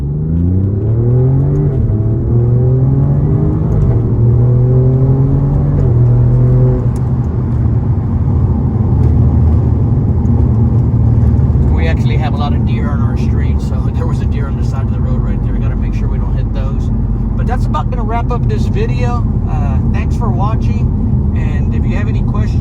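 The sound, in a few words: Alfa Romeo Giulia Quadrifoglio car revving and accelerating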